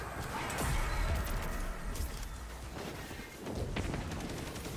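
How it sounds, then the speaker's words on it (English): Deep booming void explosions in Destiny 2 burst repeatedly over a dense, rumbling wash of gunfire and effects, loud and close throughout. "I just like watching these void explosions"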